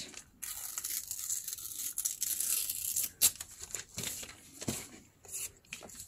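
Newspaper torn by hand for collaged tags, a long rough ripping rasp with crinkling, then a sharp snap and several shorter tears and rustles, close and alone with no talk.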